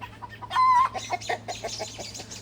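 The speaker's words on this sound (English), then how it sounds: "That was a robin that just got chased or pecked at by a chicken." A chicken clucking close by, a drawn-out squawk followed by a quick series of short, choppy clucks in an otherwise quiet setting.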